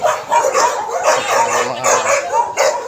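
Dogs bark and yip in rapid, repeated bursts close by, loud and agitated, with no talking.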